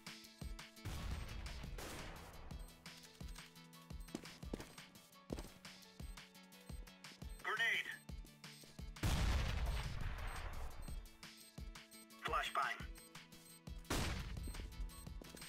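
AWP sniper rifle shots in a competitive CS:GO match, several sharp, loud cracks spaced across the stretch, with one heavy blast near the middle, set among game effects and background clatter.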